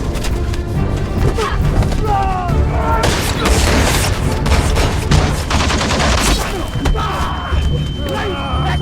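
An action film's gunfire scene, dense booming shots and bursts packed together with heavy thuds and music, loud and chaotic throughout.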